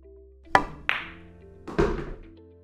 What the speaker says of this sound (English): What we're going to talk about today is just a stop shot.